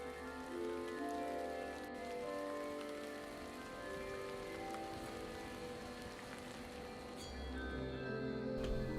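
Rain falls steadily in the documentary video game Atuel, a constant, even hiss of drops on surfaces over a soft ambient musical drone, with no voices.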